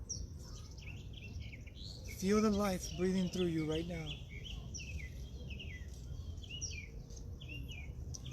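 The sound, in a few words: birds chirping outdoors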